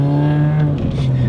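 A supercharged Mini Cooper S engine holding a steady, slightly rising drone under light throttle, close and fairly loud for a brief moment without speech.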